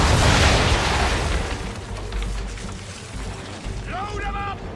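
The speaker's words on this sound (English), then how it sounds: "Bring her on broadside, and when all guns are on target, call fire. Fire broadside!" Ship cannons fire a broadside in Assassin's Creed 3 with a heavy, loud boom at the start. A long rolling rumble follows and slowly fades over a noisy sea background, and a brief voice cuts in near the end.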